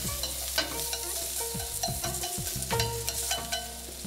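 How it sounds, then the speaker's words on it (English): Julienned cucumber is briefly sautéed in a hot pan for Korean gu jeol pan, a steady soft sizzle with repeated scraping and stirring strokes of a utensil against the pan, close up and with no talking. "saute the julienned cucumber. Very, very slightly."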